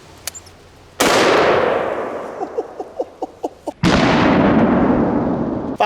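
.500 Magnum Performance Center snub-nose revolver fired outdoors, two loud booming shots a few seconds apart, each with a long rolling echo, and a row of small ringing metallic clinks between them.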